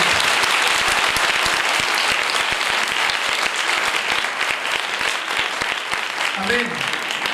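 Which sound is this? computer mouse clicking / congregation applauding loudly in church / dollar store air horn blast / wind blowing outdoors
congregation applauding loudly in church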